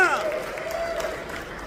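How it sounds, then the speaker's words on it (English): Theme park event crowd at a Six Flags over Texas Tormenta coaster announcement claps and cheers moderately for the team, a steady wash of applause with some voices and a presenter's voice fading through it. "Give a big round of applause for these guys."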